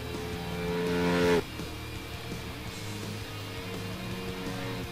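A racing motorcycle in the GTA V video game revs and accelerates, its engine note climbing to a loud peak before cutting off, then settling into a steady, continuous drone.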